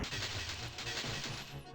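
Sword strikes landing on an enemy in the fantasy strategy game Caster of Magic, a dense, continuous crashing clash that holds steady and loud for the whole stretch without any talking.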